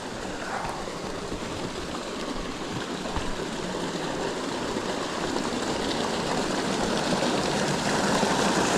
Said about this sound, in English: Here's another little waterfall element over here I'm gonna show you guys.